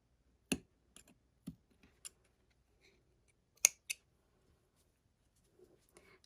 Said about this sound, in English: And then just snip off those ends.